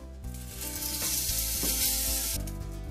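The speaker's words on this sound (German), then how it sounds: "Und jetzt starten wir und braten die Bäckchen eben einmal kurz bei voller Hitze schön braun." Pork cheeks sear at full heat in a Dutch oven, a loud steady sizzle with bright crackling spitting throughout, plus a low rhythmic hum or thumping underneath.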